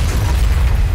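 A corpse explosion in the Nuclear Throne video game gives a loud, short, crunchy blast that fills the whole second, dense and close with no speech.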